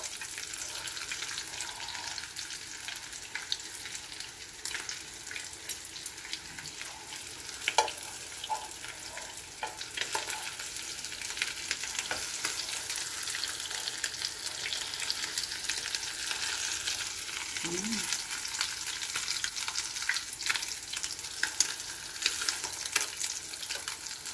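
Eggplant fries in hot oil, a steady close sizzle with scattered pops and occasional stirring clinks over a long stretch.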